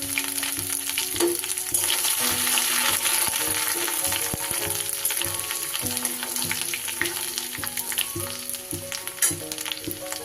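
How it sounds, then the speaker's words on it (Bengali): Grated ginger frying in hot oil with cumin and fennel seeds, a continuous close crackling sizzle with small pops and light stirring throughout. "এবার দিয়ে দেব আমি গ্রেট করে রাখা"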